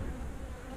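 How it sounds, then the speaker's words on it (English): A brief, steady drone of bees swarming close in a barn, unbroken buzzing with no voices. "Got these bees chasing me in the barn here."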